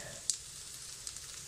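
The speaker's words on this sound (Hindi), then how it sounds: "धीरे धीरे इसको मैं फ्राई कर रही हूँ ताकि ये टूटे ना" Arbi (taro root) pieces slowly frying in a pan with salt and garam masala: a soft, faint continuous sizzle with one brief sharp crackle near the start and a few small pops.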